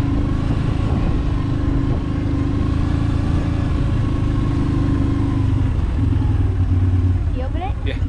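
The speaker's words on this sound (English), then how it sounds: "I'm gonna show you a little bit of it running around in on an ATV" A steady mid-pitched ATV engine drones close and loud throughout while the vehicle is driven over rural land, its hum holding even with slight wavering and no talk over it.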